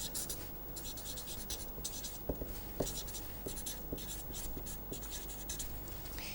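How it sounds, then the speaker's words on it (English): Handwriting during a lecture on vector representation of sequences, a steady scratching of pen or chalk on a writing surface with a few sharper taps, faint beneath a constant broadband hiss. "I think that is important enough for us to write down explicitly."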